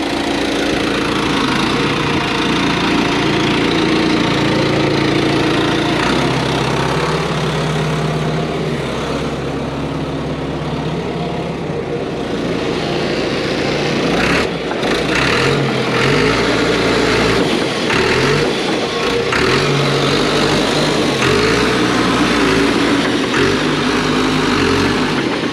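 Heavy equipment at a Florida auction yard runs its engine steadily and loudly throughout, with a low sustained rumble. The pitch and load shift as the gears are tried, and the engine stays up close with no talking.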